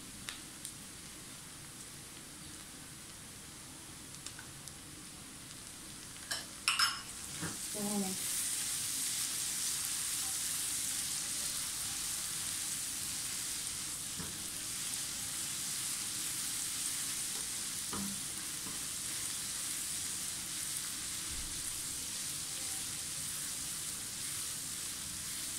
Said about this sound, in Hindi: साथ ही अब आप इसमें लहसुन अदरक का पेस्ट डाल दें।